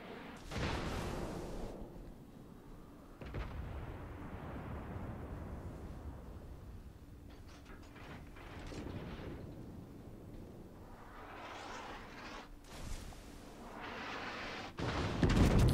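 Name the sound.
naval artillery gunfire in the video game World of Warships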